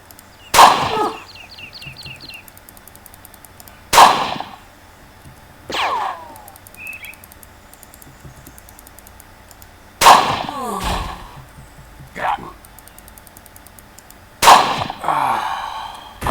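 Four loud, sharp gunshots from a video game weapon range test fire at irregular intervals, each a hard crack with a short ringing tail, followed by scattered fainter impact clatters and whooshes between shots.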